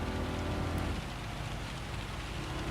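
Steady, dense rain hisses throughout a wet race in the driving game Gran Turismo 7, an even wash of falling drops with a low rumble beneath and no voices.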